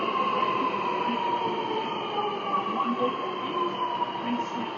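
A train moves through Chatswood station in Sydney with a steady rumble and hiss that holds evenly throughout.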